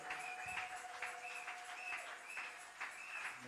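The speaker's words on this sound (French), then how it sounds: "Under your applause." Congregation at a French-language church service applauding a pastor's introduction, a steady even wash of clapping at moderate distance, with a faint sustained tone running beneath it.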